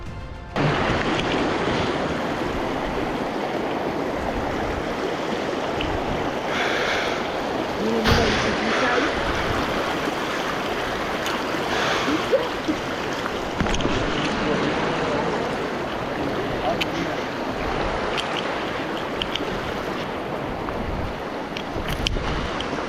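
Broad rushing water noise from a river being waded across by hikers on a coastal fishermen's trail in January, steady and loud throughout, with wind buffeting the microphone.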